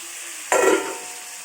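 Potatoes, pointed gourd and soybean chunks hit hot oil and spices in a pan, a sudden loud sizzle and stir starting midway, then settling into a softer steady frying hiss.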